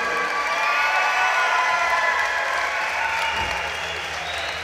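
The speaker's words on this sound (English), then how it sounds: "Big round of applause for your very game." A crowd at an amateur fight night claps and cheers for the losing fighter after a third-round TKO. The applause is loud and steady, with cheers rising through it and an announcer's amplified voice over the top.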